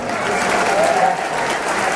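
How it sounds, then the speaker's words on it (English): Crowd applauding the officials at a Montana Class B boys' state championship basketball game, steady dense clapping filling the gym throughout with a faint murmur of voices. "let's show them our sportsmanship, respect, and appreciation with a big round of applause."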